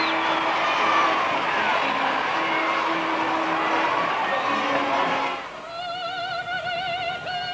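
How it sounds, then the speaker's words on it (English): Happy crowd cheering in Pitt Street as the war ends, a loud, dense roar of shouts and whoops that gives way to a brass melody, heard on old broadcast audio. "This is a very happy crowd. They're mad with excitement."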